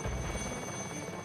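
A helicopter flies overhead with a loud, continuous rotor roar that holds steady throughout.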